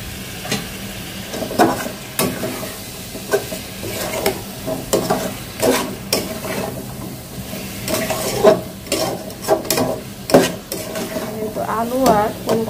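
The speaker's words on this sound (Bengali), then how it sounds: "আলু আর ফুলকপি ভাজছি" Potato and cauliflower fry in a pan while a spoon stirs them, giving repeated close scrapes and clatters over a constant sizzle, with a short voice near the end.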